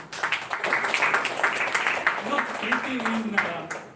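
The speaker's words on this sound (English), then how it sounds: "I think you all deserve a round of applause here" A room of Toastmasters club members at a milestone meeting gives a round of applause, a steady wash of many hands clapping that carries on for a few seconds, with voices talking over it toward the end before it fades out.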